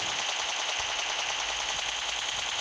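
Rapid automatic gunfire in PUBG Mobile, a dense, steady burst of shots running loudly and continuously throughout with no pauses.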